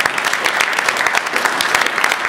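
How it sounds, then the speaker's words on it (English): An audience at the 2010 USSF gathering applauds, a steady, dense clatter of many hands clapping close by for the whole moment, with no voices standing out. "Give her a round of applause."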